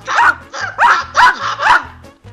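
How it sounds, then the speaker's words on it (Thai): A dog barks five times in a quick, evenly spaced series, close and loud, followed by a faint short yelp at the end. "เจ้าหมา"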